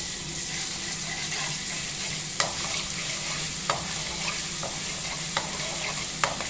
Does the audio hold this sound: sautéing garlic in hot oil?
yes